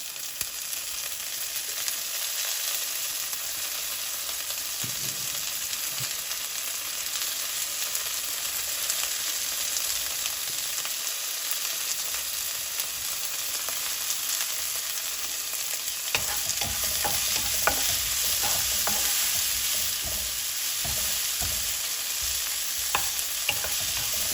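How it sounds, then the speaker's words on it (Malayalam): Onion mixture of sliced onions frying steadily in a pan, a continuous close sizzle with occasional stirring scrapes and clicks, louder crackling in the last stretch, no voices. "ലൈറ്റ് ഗോൾഡൻ കളറായി വരുന്നു നമ്മുടെ സവാള മിക്സ്"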